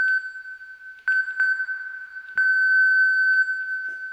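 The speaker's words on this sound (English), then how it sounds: "let's go for a static drone here. Let's again send it to the reverb." Elektron Analog Four synthesizer holding a static drone sent to reverb, a clear sustained pure tone with a faint overtone above, punctuated by a few soft percussive attacks that bloom into reverberant tails.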